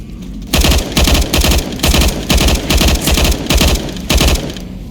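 Automatic weapons chatter in repeated rapid bursts during a Left 4 Dead 2 zombie shootout in the subway, loud and close, with short gaps between volleys.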